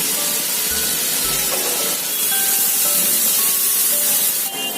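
Steady loud hissing sizzle from water added to a Bengali-style egg curry with whole onions and tomatoes in a hot pan, continuous and close with no talking.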